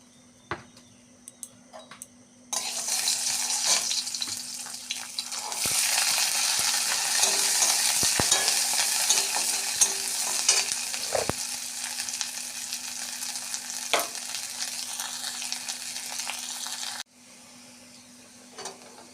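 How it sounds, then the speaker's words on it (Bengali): Whole garlic cloves fry in hot oil in a wok, giving a steady loud sizzle that starts suddenly, holds for about fifteen seconds with a few clinks and stirs, then cuts away. "কড়াই গরম হয়ে গেছে, আগে গোটা রসুনগুলো ভেজে তুলে নেব।"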